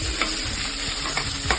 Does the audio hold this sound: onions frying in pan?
yes